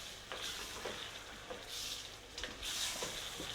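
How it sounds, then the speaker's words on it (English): Aubergine slices going into hot olive oil and frying, a steady bright sizzle with a few louder crackling bursts as pieces hit the fat, close and continuous with no talk. "Just going to pop these in and fry them"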